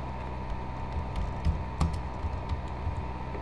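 Light typing on a computer keyboard, soft scattered key clicks at an uneven pace over a steady low background hum, fairly faint and with no voices.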